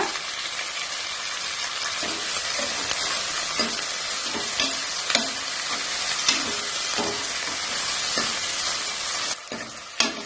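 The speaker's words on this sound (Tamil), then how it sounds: "வெங்காயம் இந்த அளவுக்கு நல்லா ப்ரௌனா மாறுற அளவுக்கு நல்லா வதக்கிடணும்." Onions sauté and sizzle in a pan for a vegetable biryani, a continuous loud frying hiss broken by regular stirring scrapes, with no talking.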